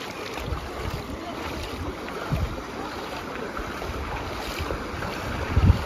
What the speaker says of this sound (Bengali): এখানে জল জলের মানে গতিটা অনেকটাই, আর প্রায় 1 হাঁটুর উপরে জল যাচ্ছে।